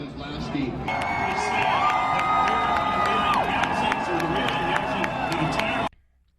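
A NASCAR crowd at Daytona cheers in joy and relief as a driver climbs out of a crashed car, a loud, roaring swell of distant voices with a sustained tone and announcer-like speech over it.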